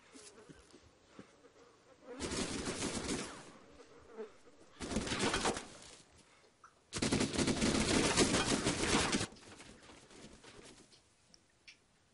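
Gunfire in the video game DayZ Epoch during an admin event: three loud, sustained bursts of shooting, the longest lasting about two seconds, separated by quieter stretches of background ambience.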